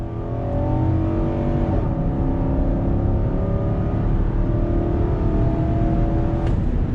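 A 2021 Nissan Armada's 5.6 liter V8 pulls hard on throttle, a steady loud engine drone heard from inside the cabin with rising tones as it accelerates through the 7-speed's gears.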